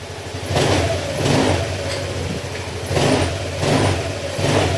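A repaired motorcycle engine revs and accelerates in four or five broad surges over a steady running drone, loud and close, with no talk.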